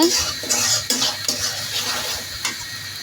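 A utensil stirs and scrapes onions with turmeric and salt in a frying pan, with repeated clinks and scrapes over a soft sizzle, close and fairly loud.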